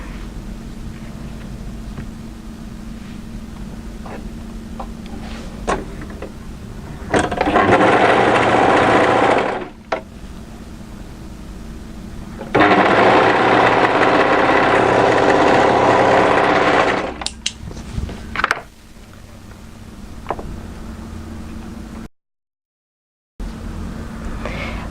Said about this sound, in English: And then turn again and overlock in the other side seam.